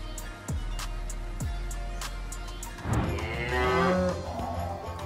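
Dairy cows moo in a rotary milking parlor, several long, close bellows rising over steady machinery hum, with sharp mechanical clicks and knocks punctuating the start.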